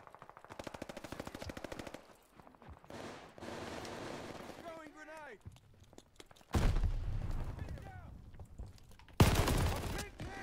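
MG 42 machine gun fire in Call of Duty Vanguard, long rapid rattling bursts with pauses between, loud and close, mixed with other game sounds and a person talking in places.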